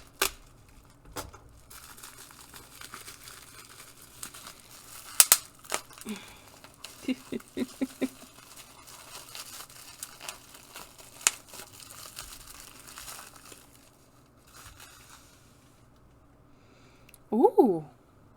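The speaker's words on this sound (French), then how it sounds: "Du papier bulle." Bubble wrap is handled during an unboxing, giving intermittent crinkling and crackling bursts and a sharper crackle near the end, with a person talking at times.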